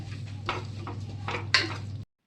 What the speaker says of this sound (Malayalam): ഇനി നന്നായി വഴണ്ട് വന്ന ഉള്ളിയിലേക്ക് ഈ ഒരു കൂട്ട് ചേർത്ത് യോജിപ്പിച്ച് പച്ചമണം മാറുന്നത് വരെ മിക്സ് ചെയ്ത് കൊടുക്കുക